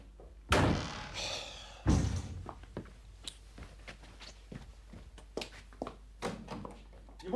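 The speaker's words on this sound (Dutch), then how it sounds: "Je moet niet zo met de deuren slaan." Indoors in a house, two loud door slams land about a second apart, sharp and close with a short ringing tail, followed by quieter knocks, clicks and footsteps.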